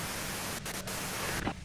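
Radio static in the Disco Elysium video game fills the air as a dense, steady hiss, loud and close, broken by two brief dropouts and then thinning out near the end.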